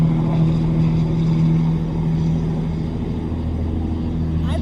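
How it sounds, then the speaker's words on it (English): A big truck passing on a road near an outdoor qigong practice spot, a loud, steady low engine rumble and tire roar that fills the whole stretch and eases slightly toward the end. "I've never seen so many trucks go by during my practice."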